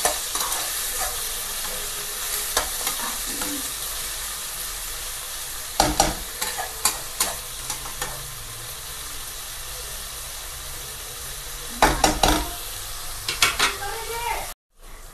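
Small chopped green chilies roasting in hot oil in a pan for upma, a steady close sizzle broken by clusters of brisk scraping and clattering stir strokes, with a brief dropout near the end.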